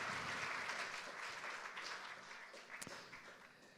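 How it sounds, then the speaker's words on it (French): Audience at a ceremony for the Institution Nationale des Invalides applauding its governor: dense, even clapping from a crowd, fairly faint and distant, tapering slightly toward the end. "Vous pouvez l'applaudir, gouverneur des Invalides qui est parmi nous ce soir."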